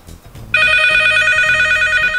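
A telephone rings loudly and close by, a steady electronic trill that cuts in suddenly after a moment of quiet and keeps going to the end.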